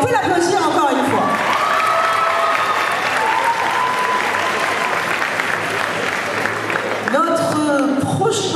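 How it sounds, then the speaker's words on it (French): An audience at a cosplay competition on stage at a game convention bursts into loud sustained applause with cheers and shouts, and a voice carries over the crowd near the start and end. "On peut l'applaudir encore une fois."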